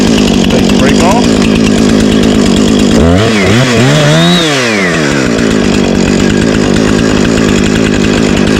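A Husqvarna 455 Rancher chainsaw runs loud and close while cutting a tree, its engine revving up in several rising and falling surges midway through the cut.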